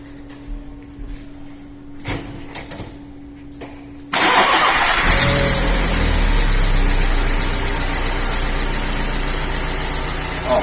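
A car engine cranks and catches after a few quiet seconds of small knocks, then settles into a loud, steady idle that runs to the end.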